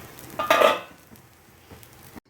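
A brief burst of sizzling as dosa batter hits a hot pan, loudest early then fading to a quiet crackle, with a faint clink of utensils.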